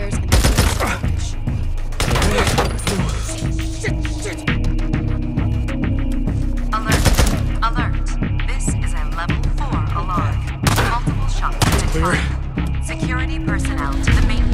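Rapid bursts of gunfire in the video game Days Gone ring out loudly and repeatedly across the whole stretch, with sharp volleys and thuds layered over a steady background and voices talking.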